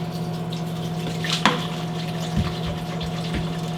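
Flavored water is poured into a container, about eight ounces, making a steady close liquid stream with a brief splash partway through, no talking.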